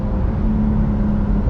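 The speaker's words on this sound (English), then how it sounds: "Oh, the flat six is an amazing engine." Porsche 911 Turbo S with Brabus tuning and a flat-six engine, heard as a steady, loud low drone with a sustained hum and no voices.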